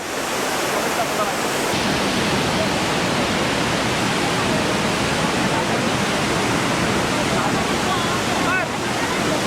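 Cheyapara waterfall near Munnar, Kerala, on the Kochi road: a dense, constant roar of falling water, loud and close, with a voice speaking briefly over it.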